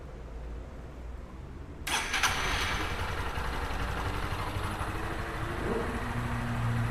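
A car engine on a fuel injector training bench cranks and catches after a quiet start, then settles into a steady, close idle with a slight waver and no talk.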